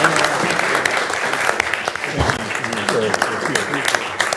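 An audience at a county Board of Commissioners meeting applauds continuously, a dense steady wash of many hands clapping at close range throughout.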